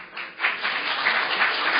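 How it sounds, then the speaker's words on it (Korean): Crowd applause at a Korean political party gathering as lawmakers arrive, a dense, steady wash of many hands clapping that swells after a brief dip and holds loud to the end. "박수 소리가 가장 큰 것 같습니다"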